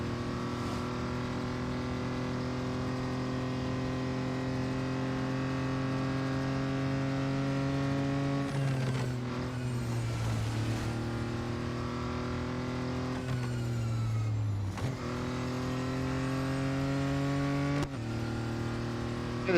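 Audi Quattro B2 engine racing in the Real Racing 3 mobile game, a steady loud drone with harmonic tones that drop and climb again through several gear shifts, running alone without talk.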